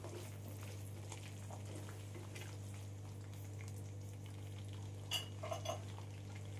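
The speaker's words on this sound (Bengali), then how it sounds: "দিয়ে একবার আমি নাড়াচাড়া করে নেব।" Palak paneer being stirred in a pan after garam masala is added: faint scraping and a few light clinks of a spoon, loudest near the end, over a steady low hum.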